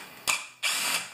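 A power tool backs screws out of a Craftsman string trimmer's plastic housing: two short whirring bursts, the second longer and sustained, close and fairly loud with no voices.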